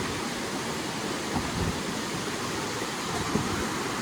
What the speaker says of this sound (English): You'll get to listen to the sound of that water all night long.